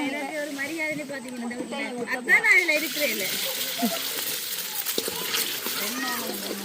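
Egg batter is poured into a hot pan and fries, splashing and sizzling at close range for several seconds while people talk over it.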